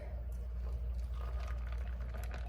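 Espresso shots are poured into a drink, a short gentle splashing pour under a low steady hum, close by, with no talking.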